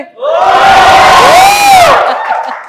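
A crowd of employees lets out a loud, sustained collective cheer and whoop for Mandeep at a celebration event, rising together, holding for about two seconds, then dropping off sharply.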